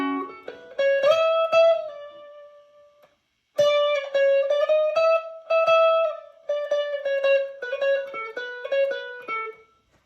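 Electric guitar plays a solo walk-down (5/10/1978 version), a single melodic line of sustained, bending notes descending in steps, with one brief pause partway through.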